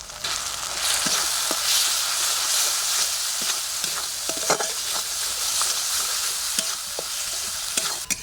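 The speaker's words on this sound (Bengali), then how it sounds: "এবারে একটু জাল দিয়ে মশলাগুলো ভালোভাবে কষে নেব" Spices with cumin, coriander, chilli and turmeric powders plus chopped green chilli fry steadily in a wok with a bitter gourd, onion and potato dish, giving a loud, continuous sizzle broken by scattered stirring scrapes.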